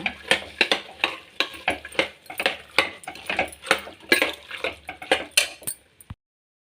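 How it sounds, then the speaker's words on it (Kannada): Soaked potatoes, carrots and other vegetables are stirred into masala in a metal pot, a close series of rhythmic scraping clanks from the spoon that stops abruptly at the end. "ನೆನೆಸಿರುವ ಆಲೂಗೆಡ್ಡೆ, ಎಲ್ಲವನ್ನು ಹಾಕಿ ಚೆನ್ನಾಗಿ ಮಿಕ್ಸ್ ಮಾಡೋಣ"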